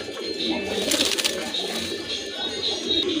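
Shartin pigeons coo softly in a loft over a dense, steady wash of chirps and rustling from many birds close by.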